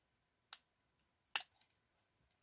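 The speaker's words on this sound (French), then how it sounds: "Les ciseaux, et là, je vais faire un tout petit biais." Scissors snip paper at a slight angle, two sharp close cuts with small rustles and clicks between them, quiet and without any talking.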